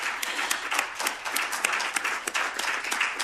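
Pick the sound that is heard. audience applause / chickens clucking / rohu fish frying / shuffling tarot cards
audience applause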